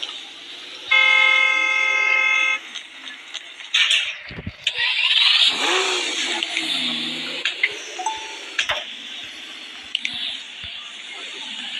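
A car horn in the video game Partycraft gives a long steady toot, followed by an engine starting and running alongside scattered clicks and game effects.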